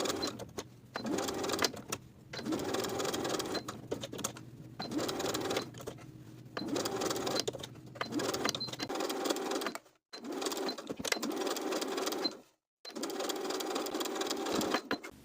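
A sewing machine understitches the facing of a belted dress in repeated bursts of rapid mechanical whirring, stopping briefly between runs, close and clear with no talking.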